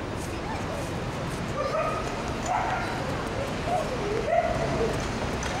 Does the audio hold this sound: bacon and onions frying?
no